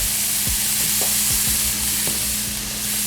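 Cheesesteak ingredients hiss in a pan over medium-high heat, a loud continuous sizzle with a few quick scraping strokes of stirring and no talking.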